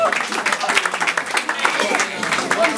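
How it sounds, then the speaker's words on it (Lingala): Wedding guests applauding at a ceremony, a crowd's scattered clapping heard close and moderately loud, mixed with a voice talking. "Est-ce que nous pouvons applaudir,"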